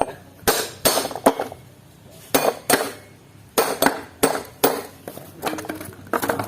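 A T-handle tool strikes a worn washing machine gear to knock it loose during a repair, giving about a dozen sharp metallic taps in uneven clusters, close and fairly loud, with no talking.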